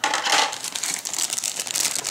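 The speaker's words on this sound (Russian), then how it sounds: "Пакетик с прозрачными деталями." Crinkling and rustling of a small plastic bag holding clear parts from an Academy 1:72 P-40 Warhawk model kit, handled up close in several quick, crisp bursts.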